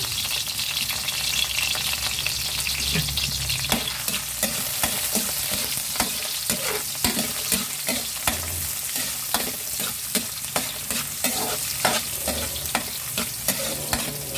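Garlic stir-fries over high heat for chop suey, a bright continuous sizzle broken by frequent quick scraping stirs in a steady rhythm.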